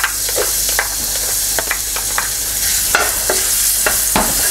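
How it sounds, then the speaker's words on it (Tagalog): Garlic sautéing in hot oil in a pan, a steady close sizzle with scattered crackles and occasional stirring scrapes, no voices. "dito sa ating pan, mag-heat up lang tayo ng oil at magigisa tayo"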